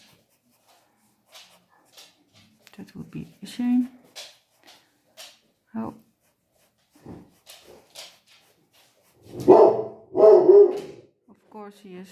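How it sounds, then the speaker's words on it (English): Someone talks calmly, then a dog barks loudly a few times nearby, cutting over the end of his speech. "If you hear strange noises or barking, it's always my dog."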